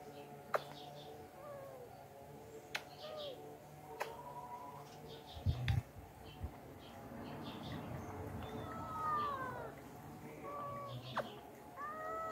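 A house cat gives several short meows, spread out with pauses between them, fairly close in a quiet room, and a soft ticking and faint rustling run underneath.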